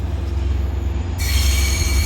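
Southbound Caltrain South County Connector #822, led by MP36-3C locomotive 926 with bilevel coaches and a bike car, departing San Jose Diridon: steady loud rumble with high-pitched wheel squeal that sharpens and adds a second shrill tone partway through.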